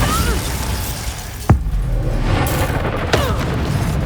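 A Bombarda blasting spell explodes in Hogwarts Legacy combat, a sharp loud boom at mid-clip followed by a second blast later, over a steady bed of game ambience and effects.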